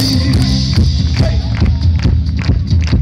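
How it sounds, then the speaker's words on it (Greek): A live audience at a 2017 show in Trikala roars with cheering and applause for a performer, a loud continuous crowd din with scattered shouts close by. "Ένα μεγάλο χειροκρότημα, Χρήστος Σατζώτης!"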